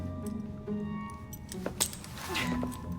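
Keys jingle and clink in a short metallic rattle as they are handed over in the Victorian London setting of Assassin's Creed Syndicate, with a few brighter clinks against low background ambience.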